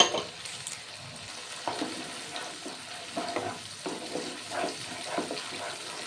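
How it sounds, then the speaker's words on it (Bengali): Spice paste frying in oil with yogurt nearby for a rajma pilaf, stirred with a steady sizzle and a series of scraping strokes against the pan at close range, with no talk. "ভালো করে মশলা কষিয়ে নিচ্ছি"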